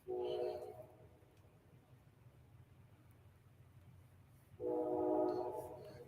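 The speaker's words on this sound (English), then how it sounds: "Listen to the sounds of the train a few miles away." A train several miles away sounds its horn in two faint, drawn-out blasts, one at the start and one near the end, over a low, steady background rumble.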